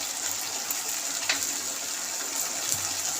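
Vinegar poured into a pan of chilli chicken, a steady soft liquid splash and trickle that runs throughout, with a faint tap or clink near the middle.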